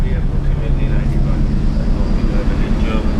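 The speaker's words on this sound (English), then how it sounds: "Look, boat coming into to dock, folks." A boat comes into dock at Calais on rough water, its engine a low continuous rumble mixed with wind buffeting the microphone, loud and close throughout.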